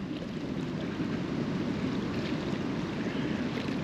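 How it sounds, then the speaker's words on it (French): Wind and lapping waves on open water during a predator-fish angling outing, a steady broadband wash with no clear separate clinking, continuous and fairly close throughout. "il y a du vent, on entend le cliquetis, ça fait des vagues"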